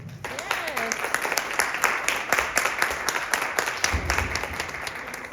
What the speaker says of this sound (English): If you would give a round of applause for Mr. Joel